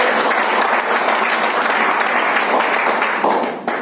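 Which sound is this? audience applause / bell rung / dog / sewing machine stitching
audience applause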